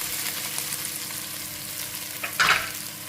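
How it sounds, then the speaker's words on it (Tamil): Onions and ginger-garlic paste frying together in a pan make a quiet, steady sizzle, with a sharper scrape of stirring near the end, close and without talking. "இப்போ இது கூட இஞ்சி கொண்டு சாந்து சேர்த்துட்டேன் இதை நல்லா கலந்துக்கிட்டேன்"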